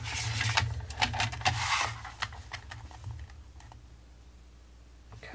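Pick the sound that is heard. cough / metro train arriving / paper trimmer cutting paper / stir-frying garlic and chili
paper trimmer cutting paper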